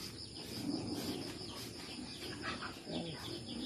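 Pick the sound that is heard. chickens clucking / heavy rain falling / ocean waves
chickens clucking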